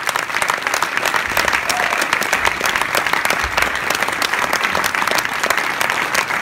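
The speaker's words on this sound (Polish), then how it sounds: "żebyśmy wszyscy złożyli gorące brawa dla Macieja Szałka, który jest tutaj z nami" Warm, sustained applause from a concert audience at a stage event, dense steady clapping from a full room that stays loud and continuous throughout with no talk over it.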